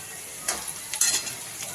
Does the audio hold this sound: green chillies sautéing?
yes